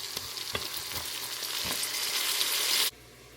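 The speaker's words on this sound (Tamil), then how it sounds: "வெங்காயம் ஓரளவுக்கு ஒரு பொன்னிறமா பொரிஞ்சிட்டுது" Onions frying in an Instant Pot for prawn biryani, a close, steady hissing sizzle with a few sharp stirring taps, building slightly before cutting off abruptly near the end.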